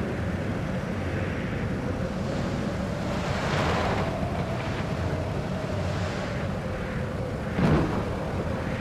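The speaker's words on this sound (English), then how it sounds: "And now we're at Beaufort 10, which is high gales and close to a hurricane." Stormy ocean surf and howling wind from a real-time ocean simulator at Beaufort 10, near hurricane force, as a steady, loud, broadband roar with a few swelling gusts and no speech.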